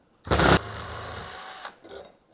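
A power screwdriver backs screws out of a ceiling fan bracket on a Harbor Breeze Camden fan install: one short, loud motor whir, then a longer steady spin, then a brief faint burst.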